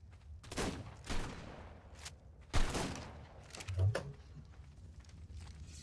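Bursts of gunfire in a multiplayer survival game with dinosaurs, several sharp shots scattered across a few seconds amid ambient noise, at moderate loudness.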